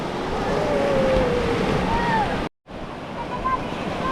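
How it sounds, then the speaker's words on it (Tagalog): Strong ocean waves wash and roar steadily at a Palawan beach, a dense close surf broken by one brief dropout, with faint voices in the background. "Lakas ng alon."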